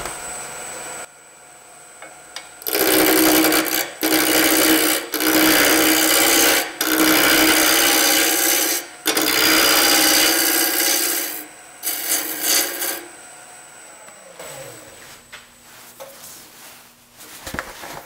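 Wood turning on a lathe at about 1,000 RPM, a square blank being cut down to round: loud, continuous rasping bursts of the tool biting the spinning wood, broken by brief pauses, then softer scraping as the cut eases.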